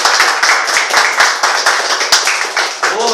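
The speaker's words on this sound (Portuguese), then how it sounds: "Vou dar uma salva de palmas para todas essas opiniões." Rapid, rhythmic hand clapping fills a TV studio during a youth debate on abortion, close and steady throughout with faint voices beneath.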